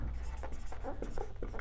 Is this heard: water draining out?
no